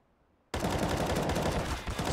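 Silence breaks into a loud, sustained automatic rifle spray in Counter-Strike, a rapid unbroken burst of shots that runs to the end with a brief dip near the close.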